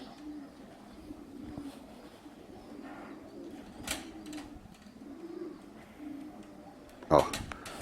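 Racing pigeons arriving at a loft in Czersk, Poland, with soft repeated cooing and brief wing flaps, one sharp clattering burst near the end, while people talk quietly throughout.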